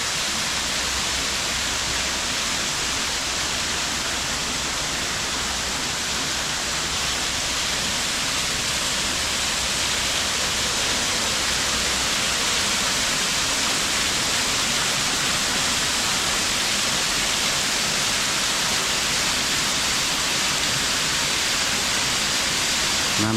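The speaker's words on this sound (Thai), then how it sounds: "ตัวนี้ก็จะเป็นโซนน้ำตก" A waterfall roars steadily at a forest temple near Vientiane, Laos: a loud, close, unbroken rush of falling water that holds level throughout with no voices.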